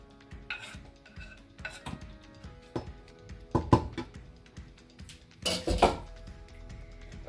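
Boiled potatoes being mashed in a pot for loaded smashed potatoes, giving a few irregular metallic clanks and scrapes of a utensil against the pot, moderately close, with quiet gaps between strokes.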